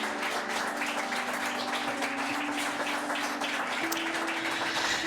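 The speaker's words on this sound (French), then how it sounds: "Faut les applaudir bien fort." Applause for a restaurant couple on a TV show: steady, dense clapping from a studio audience, sustained throughout at a moderate distance.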